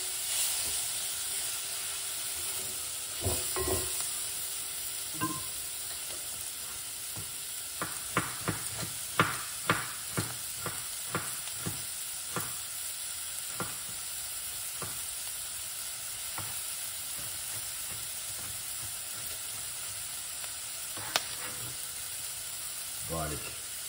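Curry frying in a pan gives a continuous low sizzle, broken by a series of scraping stirs that come in quick bursts, close and fairly faint, with a brief voice in the background.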